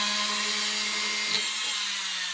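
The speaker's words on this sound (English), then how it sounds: "I've got a round ball burr, and I'm just going to drill a hole" A rotary tool with a round ball burr drills a pilot hole in sterling silver, giving a steady, close, high-pitched whine that holds unbroken throughout.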